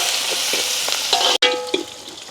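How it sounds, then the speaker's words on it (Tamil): Shallots, green chilies and curry leaves sautéing in oil, a loud close frying hiss with stirring scrapes, briefly cut off mid-way and then resuming more quietly. "வெங்காயம் பச்சை மிளகாய் அப்படியே வதங்கி கொண்டு வந்துட்டுது"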